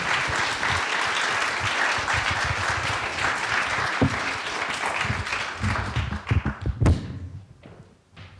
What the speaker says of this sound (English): how about another round of applause for CoachMyRun?